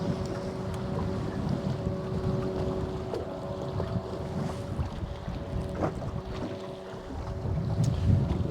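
Wind buffets the microphone in a steady, rough rumble while someone fishes from a boat in a trophy area on a March outing. Faint knocks and water sounds sit underneath, and no one speaks.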